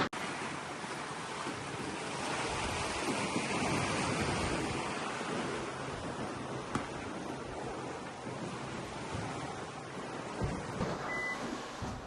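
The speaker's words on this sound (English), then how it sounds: "I think it's just breaking waves." Open-ocean waves break and wash around a Windelo 50 sailing catamaran on a test sail, a continuous hissing surge with wind noise and occasional louder splashes, no talking.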